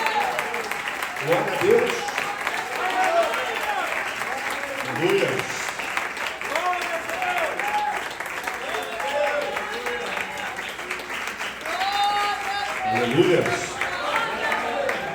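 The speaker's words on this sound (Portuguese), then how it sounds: "dê a melhor salva de palmas ao Senhor" A church congregation at an anniversary service applauds continuously in a sustained wash of clapping, while voices call out praises over it.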